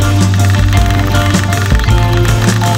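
A rapid rattling mechanical chatter, like a power wrench, runs continuously as 16 mm nuts are loosened on Renault 4L shock absorbers, loud and close.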